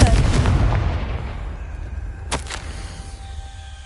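Confringo explosive spell cast in a video game: a loud booming blast that decays into a long rumbling tail, followed by a couple of sharp cracking bursts, with no talk over it.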